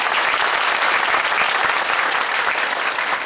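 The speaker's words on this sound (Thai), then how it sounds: "ขอเสียงปรบมือดังๆ กับกิจการขนาดใหญ่ครับ" Dense, steady audience applause fills the whole stretch, loud and continuous like a large crowd clapping at a business event, with no voices standing out.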